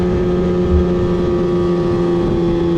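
A snowmobile engine drones steadily and loudly while riding a Northern Michigan snow trail, a constant humming roar with wind buffeting the mic and no break throughout.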